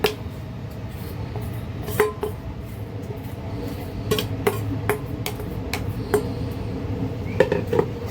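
Yogurt-soaked fenugreek is mixed into dough in a bowl for methi thepla, giving soft squishy working sounds punctuated by scattered clinks and taps of a utensil against the bowl, close and intermittent.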